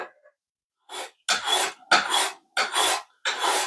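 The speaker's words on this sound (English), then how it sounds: "Then I can go to an upright belt grinder." An upright belt grinder grinds metal from a Dewalt DCS573 circular saw part in four loud, rasping bursts of about half a second each, separated by short pauses, with no talking.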